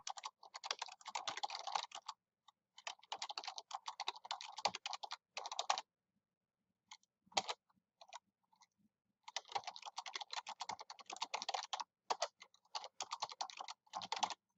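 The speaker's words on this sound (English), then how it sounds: "I'm just going to type it in like I planned or wrote down." Rapid clicking keystrokes on a computer keyboard come in close bursts separated by brief pauses, quiet and isolated with no voices.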